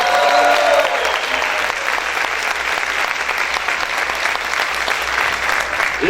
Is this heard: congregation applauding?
yes